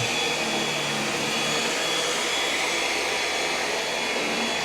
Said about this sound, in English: It's utilizing that vacuum boost mode.